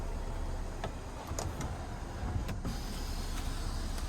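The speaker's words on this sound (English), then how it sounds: "back there, that whole window slides up and down" The power-sliding rear window of a 2025 Toyota Tundra 1794 Edition pickup moves with a steady, low motor hum and a few light ticks inside the cab, fairly quiet and without talk.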